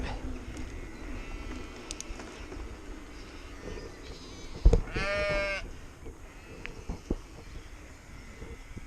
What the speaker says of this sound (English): Oh look, sheep.